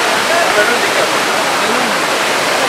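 Bhatta Falls waterfall in Mussoorie roars as a loud, steady broadband rush of falling water close by, with no pause across the whole stretch.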